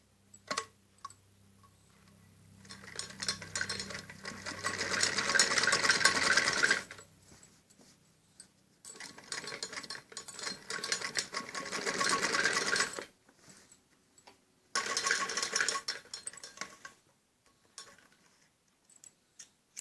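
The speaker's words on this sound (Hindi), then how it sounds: "इसके ऊपर ऐसे सिलाई लगानी होती है ताकि ये नीचे वाली सिलाई दब जाए।" Sewing machine stitching a fabric strip onto a kameez neckline, running in several close, steady whirring bursts of a few seconds each, separated by short pauses.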